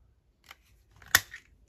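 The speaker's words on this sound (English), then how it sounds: "I'm going to put a little snip there" Scissors snipping paper for a junk journal: a soft snip followed by a sharper, crisp cut, both close and quiet in an otherwise silent room.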